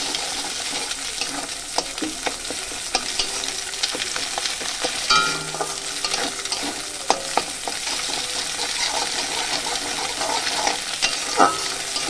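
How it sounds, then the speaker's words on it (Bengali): Eggs being stirred and scrambled in a hot pan for a tomato egg bhujia, with a steady sizzle punctuated by scraping spatula strokes and occasional sharp clinks against the pan. "ডিমটা আমার ভালোভাবে ভাজা হয়ে যাচ্ছে।"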